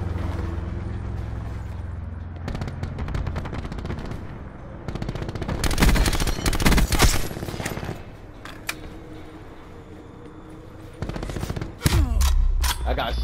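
Gunfire in Call of Duty: Black Ops 4 on the Nuketown map, loud bursts of shots and sharp cracks spread across the stretch, with heavy impacts near the middle and end over a constant game background.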